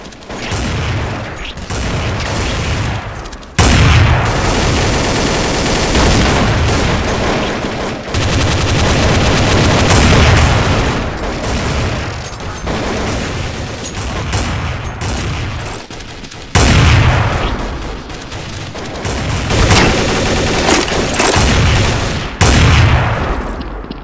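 Sustained, loud gunfire from Counter-Strike: Source: dense automatic bursts and rapid shots rattling almost without pause, cut by a few brief gaps.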